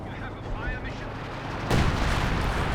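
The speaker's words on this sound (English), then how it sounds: "That's a barrage into the base." An artillery barrage slams into a base in the Company of Heroes 2 strategy game, with a heavy booming impact and rolling rumble breaking in partway through over a low battle din, while a commentator talks.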